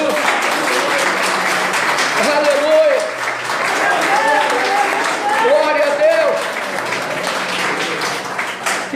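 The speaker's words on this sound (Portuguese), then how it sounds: "Dá um aplauso para o Senhor Jesus." A church congregation applauds together in a sustained round of clapping while a preacher's voice calls out praises over the crowd.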